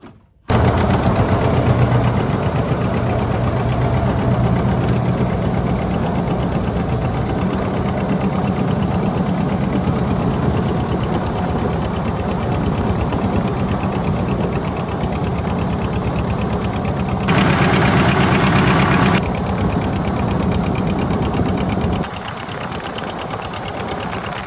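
A small outboard motor on a jon boat idles steadily, loud and close, with a constant rattling drone that barely changes. The pitch shifts slightly near the end.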